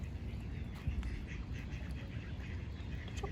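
Ducks quack repeatedly near a fishing spot, a steady run of nasal calls over constant low background rumble, fairly close with no talk over them.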